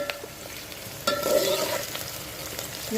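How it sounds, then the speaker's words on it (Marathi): Onions frying in hot oil in a pan for Maharashtrian masale bhaat, a steady close crackling sizzle that grows louder and busier as they hit the oil, with stirring scrapes. "तेलात टाकू कांदा आता आपण चांगला होऊ द्यायचा आहे"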